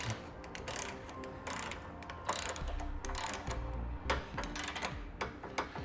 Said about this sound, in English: we're going to torque this bolt down, just the one on the inside